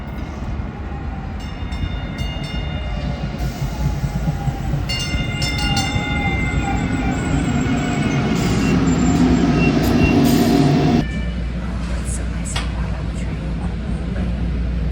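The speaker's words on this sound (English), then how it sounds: "Arriving, red line, train to Westmoreland Station." A two-car Dallas red line train arriving at a station: a loud, steady rumble and rolling clatter of the rail cars fills the whole stretch, with whining tones and an automated announcement voice mixed in before the sound drops off near the end.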